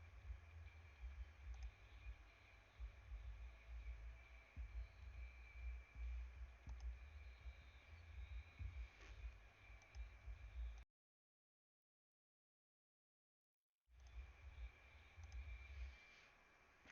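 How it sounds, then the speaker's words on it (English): Faint keyboard typing, caught at a distance of a couple of feet by a Razer Nari Ultimate headset mic, comes through as soft, irregular clicks under a steady hiss, with a few seconds of total silence midway. "I'm a couple feet from my keyboard, and you can still hear my keyboard"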